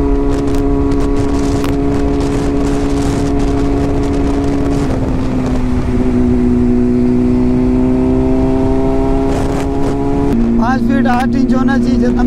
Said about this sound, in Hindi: लाउड तो इतना ज़्यादा है भाई, एरो का फुल सिस्टम बहुत ही लाउड है